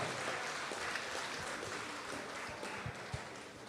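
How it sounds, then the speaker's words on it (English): Applause fills a room at a school fund-raising awards banquet, a faint, steady wash of many hands clapping heard from a distance, with a few louder low thumps near the end. "Listen, bigger applause."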